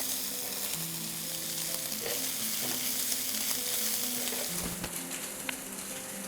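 Masala rice ingredients frying and being stirred in a pan, giving a steady close sizzle throughout with soft scraping stirs and a few brief clinks, no talking.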